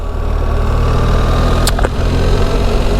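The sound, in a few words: BMW R1300 GSA motorcycle engine on the open road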